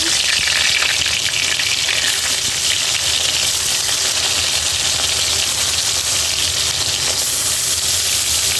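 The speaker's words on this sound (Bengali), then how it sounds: "এখানে কই মাছ রান্না করব তেলটা গরম করে নিয়েছি" Koi fish frying in hot oil in a home kitchen, a steady loud sizzle and crackle running unbroken throughout with no talking.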